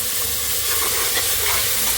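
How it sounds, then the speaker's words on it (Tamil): Two tablespoons of ginger garlic paste frying in hot oil in a pressure cooker for masala dal khichdi, making a loud, continuous bright sizzle and hiss as it is stirred. "அது கொஞ்சம் வாசனை வர்ற வரைக்கும் கொஞ்சம் கிண்டி விட்டுக்கோங்க."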